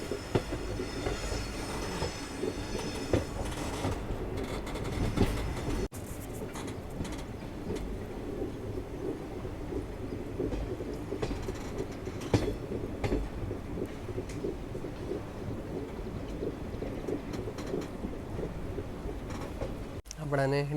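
AC sitting train on the Bhuj to Rajkot line near Vankaner, steady rumbling and clattering of wheels on track throughout, with intermittent squeals and a sharp horn-like tone near the end; a voice talks at times.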